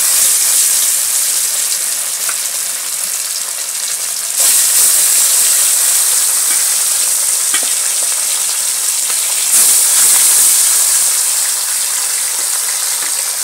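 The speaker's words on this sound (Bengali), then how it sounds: "আমি গ্যাসের আগুনটা একটু কমিয়ে দিয়ে মাছগুলো এর মধ্যে ছেড়ে দিচ্ছি" Halua fish fry in hot oil over a gas flame, giving a loud, continuous hiss and crackle that swells sharply twice as more oil spits, with no voices.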